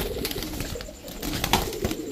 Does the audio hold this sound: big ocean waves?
no